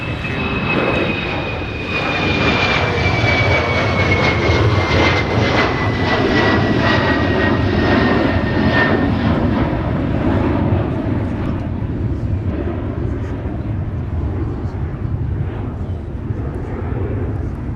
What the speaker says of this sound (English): so here are the first of the 2 back-to-back southwest arrivals. This is the one coming in from Denver.